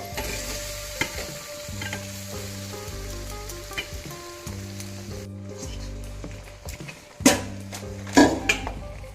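Raisins and drained rice stirred into sweet zarda pulao in a pot, repeated scraping and clinking of a spoon against metal over a soft sizzle, with a sharper clatter of strokes near the end.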